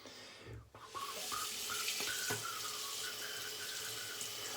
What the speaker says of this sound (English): I'm gonna rinse while I talk